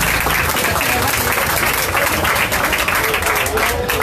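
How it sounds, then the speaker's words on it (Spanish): Loud applause for Matías at a tavern anniversary party, a thick and sustained wash of clapping with crowd noise and some voices mixed in, close and full. "un aplauso más fuerte para Matías"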